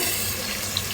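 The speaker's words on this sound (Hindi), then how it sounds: "पानी थोड़ा सा और डाल रही हूँ मैं" Water poured into a cooking pot of simmering egg and potato korma makes a steady, close, rushing splash that fills the whole brief moment, with no voices.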